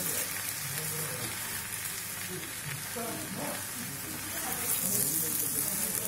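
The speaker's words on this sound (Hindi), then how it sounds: "तो बस अब इसे हम हाई फ्लेम पर मिक्स कर देंगे" Rice tossed and stirred with tomato sauce in a pan over a high flame for a tomato pulao, a steady soft sizzle with gentle scraping throughout.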